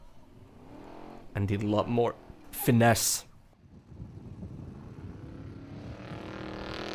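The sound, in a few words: off-road race car engine driving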